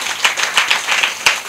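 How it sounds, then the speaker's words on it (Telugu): A church congregation claps together during the dedication worship of a new church building, with a quick, uneven patter of many hands, fairly close and fading into scattered claps. "అందరూ చప్పట్లు కొట్టి దేవుని మహిమపరచాలి"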